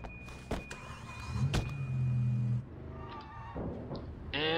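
A car taken and driven in the video game Sleeping Dogs: an engine revving and humming with a steady tone, a mechanical whir, then shifting engine sounds and a rising whine at the end, heard close with no talk.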